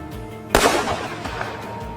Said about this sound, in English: The gunshot cracked sharply through the air, swift and precise